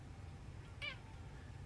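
A single short cat meow, clear but fairly quiet, sounds once against a steady low background rumble indoors.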